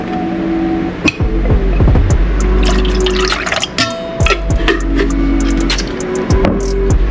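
Pickle juice poured into a bowl with hot sauce while preparing a popcorn chicken batter, a loud, close liquid splash and trickle with drips and clinks against the container.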